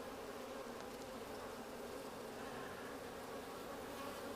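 Honeybees buzz in an open hive during a brood inspection, a steady, dense hum that stays level and continuous throughout, with no talking.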